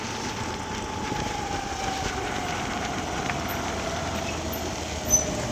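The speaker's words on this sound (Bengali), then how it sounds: "মাল গাড়ি" A goods train rolls along a railway line, a steady low rumble with a faint high whine, heard from a moderate distance without voices over five seconds.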